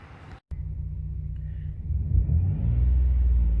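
A 2008 Jeep Liberty engine rumbles low and steady nearby, then rises in a revving swell that holds at a higher, louder drone.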